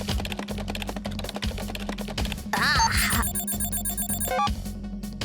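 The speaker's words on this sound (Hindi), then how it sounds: "नोटिफिकेशन आया।" A cartoon phone's notification plays as a burst of bright electronic beeping tones in an animated scene, layered over a busy music-and-effects bed with quick chirpy sweeps just before it.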